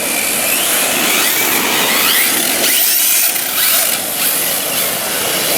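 An RC car drifts with a steady high-pitched electric motor whine and whirring drivetrain, loud and close, with tyre scrubbing swells as it slides, continuous and with no talk.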